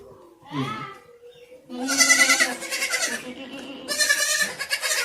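A goat on a farm bleats several times, the calls close and fairly loud: a brief early cry, then a long wavering bleat and another later, with low farmyard background.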